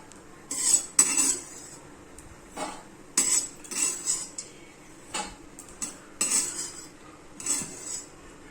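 Roasted grated coconut for a Malvani chicken rassa is scraped from a pan onto a plate, with a series of sharp metallic scrapes and clinks of a utensil against the pan, coming in irregular bursts separated by short quiet gaps.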